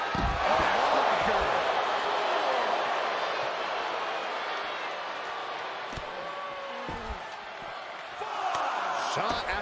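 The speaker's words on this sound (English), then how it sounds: "shot after shot, then slamming their face down" In the WWE 2K23 wrestling video game, a wrestler slams an opponent's face down. Several dull body thuds land under a loud, continuous arena crowd roar that swells again at the end.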